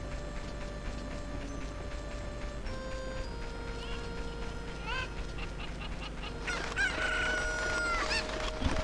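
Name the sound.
chickens clucking in video game Zelda Ocarina of Time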